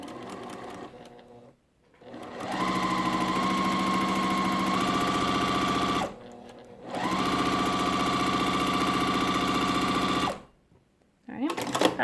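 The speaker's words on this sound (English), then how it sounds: "I'm just going to stitch 1/4 inch." A sewing machine stitching a quarter-inch seam along a drawn line on quilt fabric, a steady close mechanical whir in two runs with a brief pause between, followed by a few faint handling sounds.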